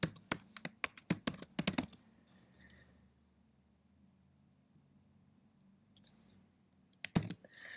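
Keys clatter on a computer keyboard as a password is typed: a quick run of close, crisp keystrokes, a quiet pause with faint room hum, then a few more taps at the end.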